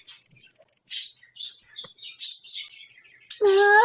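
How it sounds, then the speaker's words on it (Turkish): Bright bird chirps and tweets in a Roblox horror game come in short scattered bursts, ending in a louder, tonal call; no talking. "Bu kuşlar da susamıyor."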